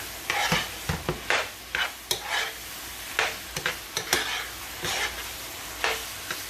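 Ground meat browning in a pan for homemade lasagna, dusted with onion powder and stirred, with repeated scraping strokes of the utensil over a steady low sizzle, close up.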